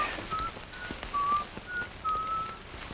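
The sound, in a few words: person whistling the tune Yankee Doodle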